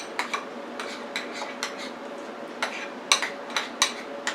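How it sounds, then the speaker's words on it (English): A spoon stirs a heaping half teaspoon of relish into homemade tartar sauce, giving repeated light clinks and scrapes against the bowl in an uneven rhythm, close by and fairly soft, with no talking. "I'm going to mix another half of a heaping teaspoon of relish"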